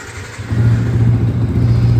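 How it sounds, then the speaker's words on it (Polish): A 2015 Yamaha MT 125 ABS motorcycle engine turns over and catches, settling into a steady low rumble that holds at a constant idle. "przekręcam kluczek, czerwony guzik w dół, klikam sobie zapłon"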